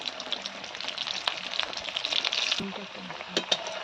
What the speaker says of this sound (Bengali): এবার এই তেলে আলুগুলো ভাজবো